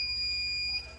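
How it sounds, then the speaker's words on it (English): The low-primer alarm on a Dillon Square Deal reloader's primer feeder gives off a steady high-pitched electronic beep, held for most of a second before cutting out, faint against a low background hum and heard alone. "one of the great things about this primer feeder is that it has an alarm."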